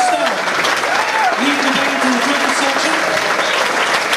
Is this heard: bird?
no